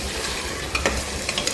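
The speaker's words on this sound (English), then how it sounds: "So I will add the pork now. Then I stir it well." Pork frying in a hot pan for a Naga-style pork curry, with a steady close sizzle and a few scraping stirs of the spoon, and no talking.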